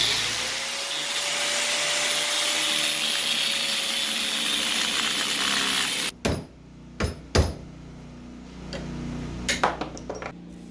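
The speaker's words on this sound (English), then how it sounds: "The links are like seized in, so I'm just gonna get the grinder and cut those out." An angle grinder cutting out seized sway bar links on a Nissan Sentra Spec V, a loud steady whine lasting several seconds, then stopping, followed by a few metallic knocks and clanks.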